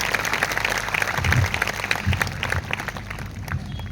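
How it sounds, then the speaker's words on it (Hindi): Congregation applauding at a Christian church convention in India during a night session, a steady wash of many hands clapping that holds for several seconds at moderate level with faint voices underneath. "भाई साहब के लिए ताली बजाई जाए"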